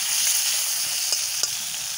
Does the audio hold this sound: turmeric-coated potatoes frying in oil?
yes